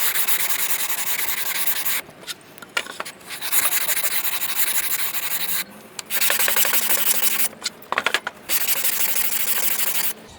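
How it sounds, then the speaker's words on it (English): Light hand sanding of a wooden medal rack piece: steady scratchy rubbing strokes, close and continuous, with a few short pauses between passes. "I'm just going to give it a light sand so everything comes out nice and straight."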